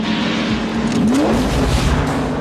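A 1990 Ford 7.3 IDI diesel truck engine roars hard as it accelerates at over 100 mph, its pitch climbing steadily, loud and close throughout with no talking.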